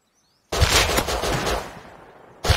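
Burst of rapid automatic gunfire in the online survival game Rust, loud and dense for about two seconds before cutting off, then another shot starting at the end.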